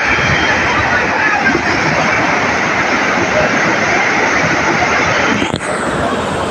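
Big sea waves crashing and rushing continuously on the shore at Digha beach in rainy weather, a loud steady wash of surf filling the whole stretch without pauses.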